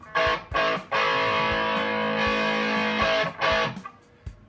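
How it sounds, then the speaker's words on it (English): Distorted electric guitar chords played through a Boss SY-300 synth ring out loudly, struck in short bursts with a long sustained chord in the middle, thick and fuzzy. "we'll just go with fat distortion today. So I'll plug the guitar in"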